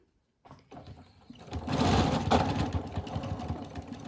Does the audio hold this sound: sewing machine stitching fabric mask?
yes